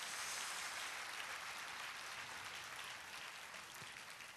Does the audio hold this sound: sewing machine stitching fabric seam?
no